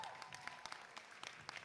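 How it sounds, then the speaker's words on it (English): A crowd at a powerlifting meet claps and cheers in the background as a lifter takes an opening squat attempt, a steady faint patter of applause beneath the scene. "I'm sure you can hear the crowd behind me"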